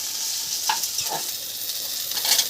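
Pumpkin, beans and taro cook together in a pan for a Bengali cauliflower stem charchari, giving a continuous loud hissing sizzle with a few soft stirring scrapes.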